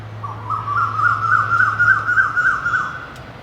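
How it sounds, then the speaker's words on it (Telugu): A bird calls steadily in a rising, hooting series over a low background hum in a vegetable garden, fairly close and clear with no talking. "పక్షులు చూడండి ఎట్లా"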